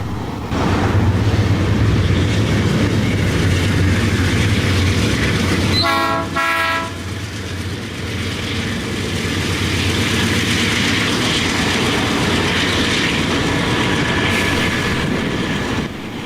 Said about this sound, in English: the Delaware-Lackawanna train DL3 waiting patiently on the Y to make their move down to Taylor Yard